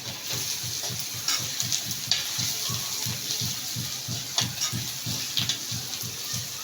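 Ginger garlic paste stirred into onions frying in a pan, a rhythmic scraping repeating about twice a second over a steady sizzle, close up, with no talking.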